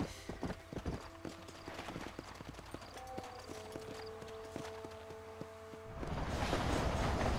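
Horse hooves clip-clop in the Red Dead Redemption video game, a brisk rhythmic run of hoofbeats that slows into spaced steps before a louder burst of game noise takes over at the end.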